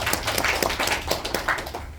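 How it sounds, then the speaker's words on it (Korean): Audience members at a party meeting clap briefly, a quick cluster of crisp, uneven claps that fades slightly toward the end. "자리하셨는데 박수 한번 주십시오."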